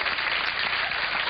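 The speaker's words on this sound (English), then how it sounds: "No one wants pity applause." A studio audience gives a short burst of steady, broadband applause at moderate volume, without a voice over it.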